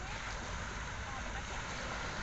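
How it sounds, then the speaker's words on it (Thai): Calm sea ambience surrounds a fishing boat out squid fishing at sea, a faint, steady wash of water and wind with no distinct events. "แต่ว่าทะเลนี่ขึ้นงามครับมือ ขึ้นสงบเงียบดี นี่ครับบรรยากาศทะเล"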